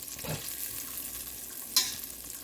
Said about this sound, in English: we let this butter melt